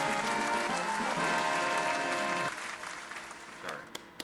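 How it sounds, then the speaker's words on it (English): A round of applause from a live audience claps steadily and fairly loud, dense at first and thinning out toward the end, with someone talking over it. "Let's give them a round of applause right here."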